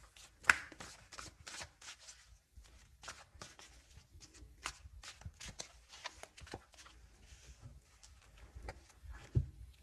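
A deck of tarot cards is shuffled up close in quiet, a quick run of soft riffling snaps and flicks in uneven bursts, fairly faint throughout.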